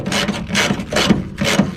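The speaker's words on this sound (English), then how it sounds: "an old ratchet" An old hand ratchet is worked during an engine removal. Four evenly spaced bursts of rapid clicking sound close and clear, with no talk.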